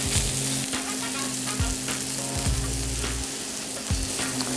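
A smashed burger patty fries on a hot griddle with a dense, continuous sizzle, while a metal spatula scrapes and taps repeatedly against the surface close by.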